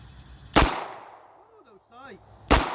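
A 9mm Tokarev pistol fires two sharp, loud shots about two seconds apart, with a brief pause between them where a faint whistle-like tone is heard.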